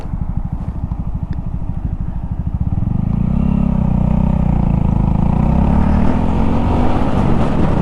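A Honda Grom motorcycle being ridden, its small engine putting out a loud, close, throbbing exhaust that steadies into a continuous drone as it gets under way, with wind noise and no talking.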